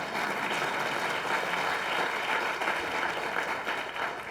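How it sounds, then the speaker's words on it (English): An audience applauding at a political speech on health care reform, a continuous crackle of many hands clapping at a fairly even, moderate level for several seconds, with no speech over it. "you can clap for that"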